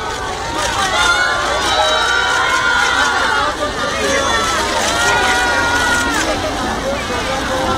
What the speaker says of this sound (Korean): 환호 받으시면서